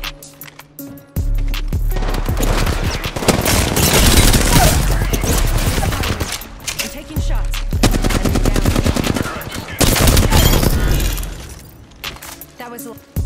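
Rapid automatic gunfire bursts in a first-person shooter game, loud and close, in several long sustained volleys separated by short pauses, with game effects and voice lines mixed in.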